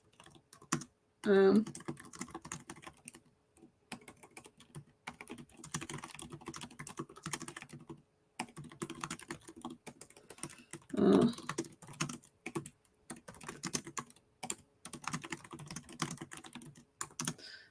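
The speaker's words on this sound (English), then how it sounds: "I'm just typing some things up here with some notes" Computer keyboard keys tapped in a steady clatter over roughly eighteen seconds, up close, with short pauses between bursts and a couple of louder knocks.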